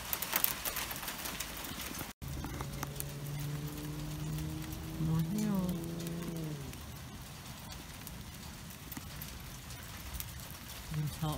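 Hail patters steadily outdoors in Lake Elsinore amid a winter storm, a dense crackle of small impacts continuing throughout, partly overlaid by a humming tonal sound in the middle.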